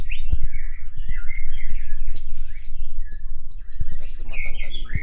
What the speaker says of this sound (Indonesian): Tuh burungnya teman-teman.